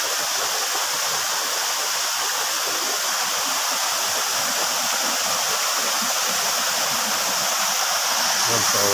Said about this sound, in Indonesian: Ini lagi di atas air terjun ya.